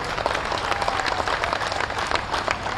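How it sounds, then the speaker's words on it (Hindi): Audience applause at a large public gathering: dense, steady clapping from a big crowd, loud and continuous throughout. "आपकी तालियों में शोर कम था, आपकी तालियां कम थी"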